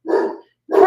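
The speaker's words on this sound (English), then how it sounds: "I am embarrassed at my dog's bark." A grown dog barks twice, two short loud barks close by separated by a brief silence, clear and alone with no talking.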